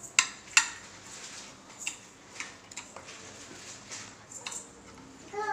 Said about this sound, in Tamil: ஷுகர் மெல்ட் ஆகிற வரைக்கும் நல்லா இப்படி கிண்டி விட்டுட்டே இருங்க